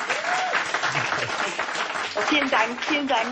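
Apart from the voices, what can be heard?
audience applause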